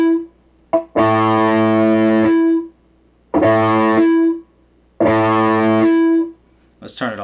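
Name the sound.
electric guitar through Positive Grid Reactor 50 noise gate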